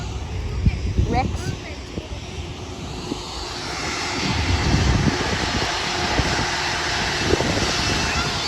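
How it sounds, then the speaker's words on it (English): A propeller plane flies over Sydney airport, its engine drone building gradually from faint to a steady, louder roar while a voice talks over it early on. "I can hear another propeller plane."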